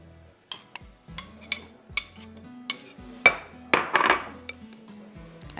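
A spoon stirs yogurt into chicken biryani in a metal pot, scraping and clinking against the sides in a steady rhythm, growing louder and busier toward the end, close by with no talk.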